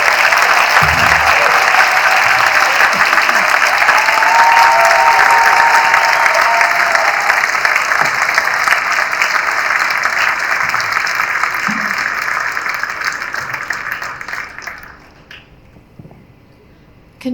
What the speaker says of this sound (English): A round of applause for the class of 2022.